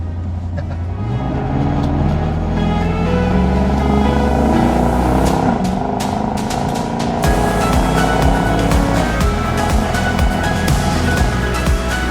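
A car towing a caravan revs up and accelerates hard on a test track toward 80, its engine note rising steadily and loud throughout, with gear changes and some wind and road rumble up close.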